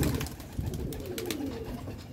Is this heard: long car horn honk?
no